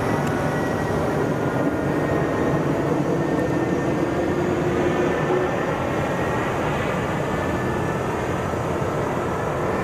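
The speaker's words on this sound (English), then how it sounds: "767 right over the top of us" A Boeing 767 jet passes low overhead at Boeing Field, its loud, sustained roar filling the air at constant strength with a faint tonal whine running through it.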